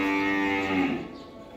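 A heifer calf gives one loud, close, drawn-out moo that fades toward its end, with no talk.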